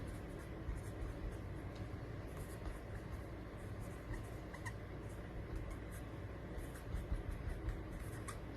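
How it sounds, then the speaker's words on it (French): A pen writes a short personal note on a card while cards are being wrapped for shipping, giving a faint, steady scratching close by and quiet throughout. "tu prends ta carte, tu écris en français ou en anglais"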